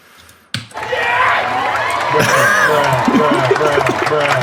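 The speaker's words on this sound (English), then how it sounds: "I just had to clap for that" A sudden burst of hand clapping breaks in and carries on, mixed with crowd cheering and whooping over a few seconds.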